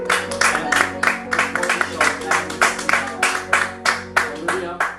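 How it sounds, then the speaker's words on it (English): A crowd claps steadily in an audience, a fairly close, continuous patter of many hands with rhythmic surges, some voices mixed in underneath. "Crowd, give her a round of applause"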